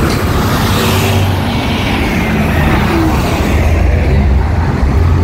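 Dense night traffic of many vehicles on a road in Mecca during the Hajj, a loud continuous roar of engines and tyres close by, steady throughout with no clear individual passes.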